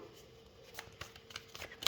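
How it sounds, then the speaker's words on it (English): Tarot cards being shuffled by hand, heard as soft, close riffling and flicking with a few sharper snaps near the end, quiet and without talk. "Okay, one more shuffle."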